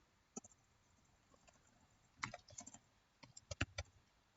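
Typing on a computer keyboard, quiet isolated key clicks at first, then a denser burst of keystrokes near the middle and a last quick cluster, all close and faint.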